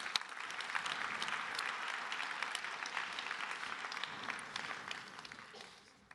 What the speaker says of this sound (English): A warm applause for our panelists.